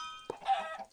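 Video game chicken on a farm gives a single short cluck, close and fairly faint, after a brief tonal chime, with no talking.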